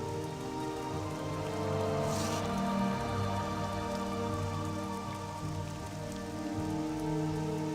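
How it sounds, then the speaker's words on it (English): Steady rain falls in the fantasy game Morrowind, a continuous hiss of drops with a faint musical drone underneath, even and unbroken throughout. "rain"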